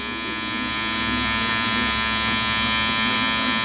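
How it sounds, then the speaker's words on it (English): Electric hair clipper with the lever open buzzing steadily and loudly while cutting a half-inch guideline for a high taper haircut, a continuous close hum with no talking. "we're going to make our first guideline with our clipper lever open"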